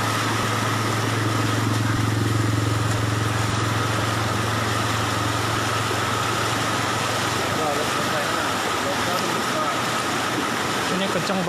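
A vehicle engine drones steadily and loudly as it pushes through floodwater at Kereng Pangi, Central Kalimantan, with a continuous rumble and rushing water noise close by. A low hum fades partway through.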